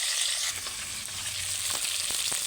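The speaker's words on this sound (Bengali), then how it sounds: "অল্প অল্প করে মাছগুলো দিয়ে দিয়ে ভেজে নেবো" Steady, dense sizzling of bhola fish frying in hot oil, continuous and close, with a few faint clinks partway through.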